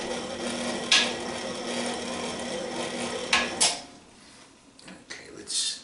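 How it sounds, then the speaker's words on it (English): A spatula scrapes around a cooking bowl of meatball mixture, soft rasping strokes with a few sharper knocks and scuffs, close and fairly quiet. "let's scrape it down one more time"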